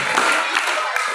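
Young children at an Islamic kindergarten and Quran school gathering clap their hands in a quick, dense burst lasting about a second, with voices close by.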